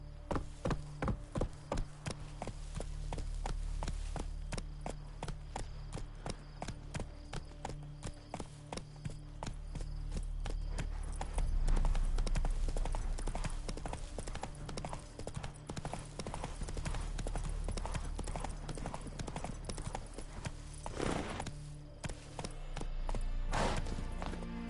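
Roach, the horse in The Witcher video game, gallops in a steady rhythmic clip-clop of hooves that carries on for the whole stretch, with a low game-audio bed underneath and no clear speech.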